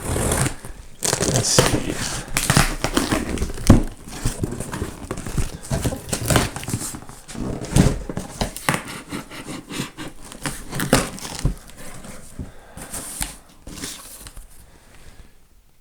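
A cardboard gift box is cut open and unpacked up close, with busy scraping, tearing and crinkling of packing material in irregular bursts, while a voice speaks briefly.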